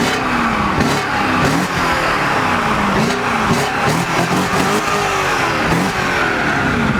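A BMW E38 with a warm 4.4-litre V8 and completely stock exhaust revs repeatedly, loud and close, the engine note rising and falling in quick successive blips with no talking over it.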